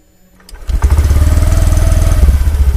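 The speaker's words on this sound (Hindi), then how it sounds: "पहले एग्जॉस्ट नोट सुनो" A Honda Activa 6G BS6 scooter starts after a quiet moment, then settles into a steady, low, pulsing idle exhaust note that is fairly loud and close, with no talk.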